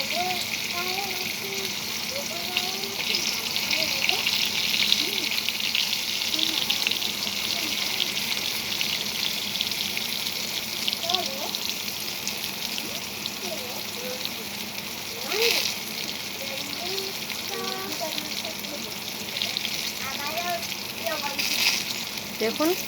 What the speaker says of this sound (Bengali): দেখুন কত সুন্দর ভাজা হচ্ছে আর নরম তুলতুলো হচ্ছে।